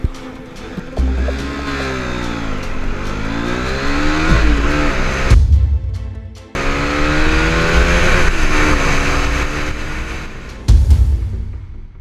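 A KTM RC390 motorcycle is ridden at full throttle, its engine loud and close, climbing through the revs in long rising sweeps with brief drops between gear changes, then pulling hard again.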